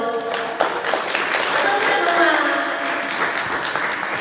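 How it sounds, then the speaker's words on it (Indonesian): A seminar audience claps in a steady, moderately loud wash of hands, with voices and a speaker audible through it. "Tepuk tangan gitu"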